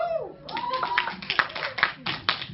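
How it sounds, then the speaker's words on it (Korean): Audience members in a cinema clap after a marriage proposal, scattered sharp hand claps building in over a fading voice, with a few people talking amid the clapping. "박수 한번 주세요."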